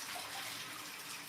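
Water being squeezed through a baby bottle part while dishes are washed at a kitchen sink, a steady, close splashing hiss with no pauses.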